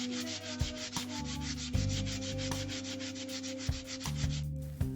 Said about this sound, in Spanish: Voy a lijar primero con una lija de 80